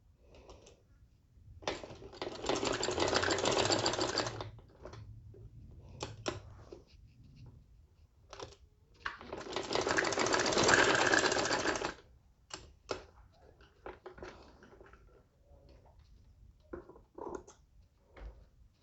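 A sewing machine stitches a baby boy's kurta in two rapid, loud runs of a few seconds each, separated by quiet handling clicks and fabric shuffling.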